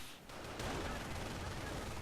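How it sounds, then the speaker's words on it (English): Mortar and gunfire in a real-time strategy game, a dense continuous burst of distant-sounding shots and booms filling the moment without pause. "There's a mortar going off"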